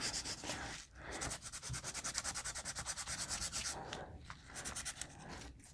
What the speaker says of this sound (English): scuff this up